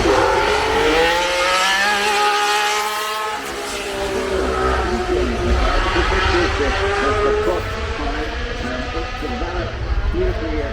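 A McLaren MP4 Formula One car passes at a hillclimb festival, its loud, high-pitched engine note shifting as it goes by, with a commentator talking over it throughout.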